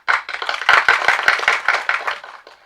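An audience at a movie audio launch event claps in a short, dense burst of applause that swells quickly and then fades out, with no talking.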